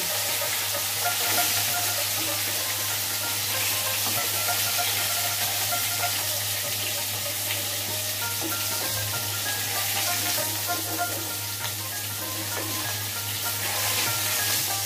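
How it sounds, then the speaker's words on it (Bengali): Oil sizzles steadily and loudly as rohu fish fries in a pan, a continuous close crackle with little change throughout. "মাছ ভাজা হয়ে গেছে, এখন প্লেটে উঠে ফেলবো।"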